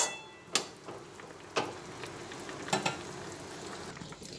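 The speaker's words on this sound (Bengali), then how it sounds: "ঝোলটা ফুটছে, বেগুনটাও সেদ্ধ হয়ে যাক" Mustard and poppy-seed curry gravy with eggplant boils in a pan for a fish dish. Faint, steady bubbling is broken by a few sharp pops and spits, with no talk.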